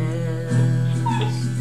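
Several dogs whimper and yip excitedly, high whines rising over a steady lower tone, continuous through the short stretch with no talk.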